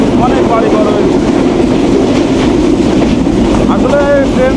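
Banalata Express running from Dhaka to Rajshahi, a steady loud rumble of the moving train heard from the open carriage door, with rhythmic wheel clatter throughout and faint voices in the background.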